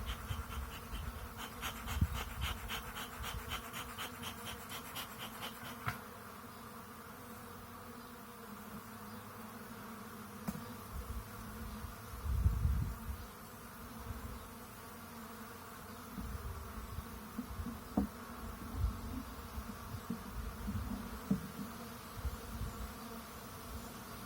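Honeybees swarm and buzz around an opened wooden hive, their steady, dense drone close and continuous, with occasional louder passes of single bees near the ear.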